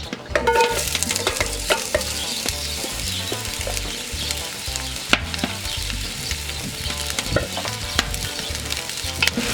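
Onions fry in olive oil in a hot cocotte for tartiflette, crackling and sizzling loudly up close with frequent rhythmic spoon scrapes and knocks against the pot.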